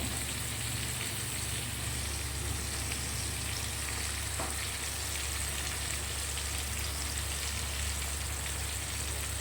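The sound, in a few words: fish oil and fish roe frying in a pan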